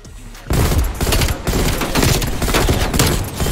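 Rapid gunfire bursts from the video game Black Ops Cold War, a loud continuous barrage of automatic fire starting abruptly after a half-second and running dense to the end with sharp repeated cracks.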